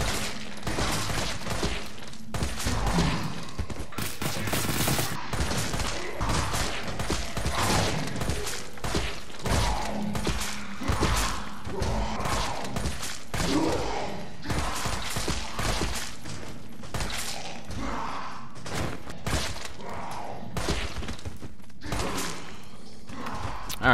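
Infinite assault rifle fire in Resident Evil 3 Remake rattles in dense bursts against zombies, mixed with thuds, mechanical clatter and creaks, with some game voice sounds in between.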